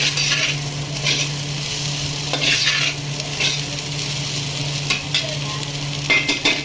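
Steady, close sizzling of leftover rice frying with spices in a pan for tempered rice, broken by several scraping bursts of stirring spread across the clip.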